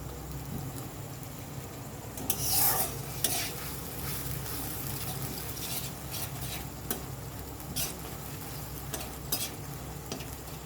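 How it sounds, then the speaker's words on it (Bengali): Ginger garlic paste sautéing in a pan, a constant dense sizzle with occasional light scrapes and taps of the spatula, close and fairly even throughout. "আদা রসুন এটা দিয়ে ভালো করে এটা কষে নেব আমি"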